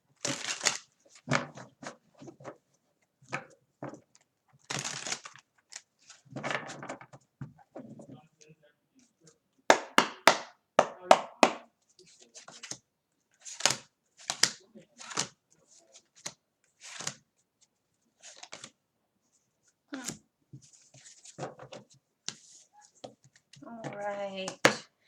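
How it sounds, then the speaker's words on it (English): Tarot cards are shuffled in repeated short bursts of riffling and flicking separated by pauses, close and crisp, with a person talking quietly at times. "Now I don't know if I shuffle this or not."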